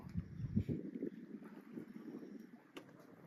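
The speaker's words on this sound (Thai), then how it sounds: "ริมป่าชายเลน ลมพัดเบาๆครับผม" A gentle wind blows at the edge of a mangrove forest, a faint, low rushing with soft buffeting against the microphone and quiet surroundings, no talking.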